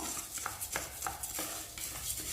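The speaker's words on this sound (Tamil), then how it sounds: "அடுப்பை சிம்மில் வச்சு பருப்பை வறுத்து எடுத்துக்கோங்க" Black urad dal roasting in a pan, stirred with a utensil: soft scraping and rattling strokes repeat in an uneven rhythm, close and fairly quiet, with no talking.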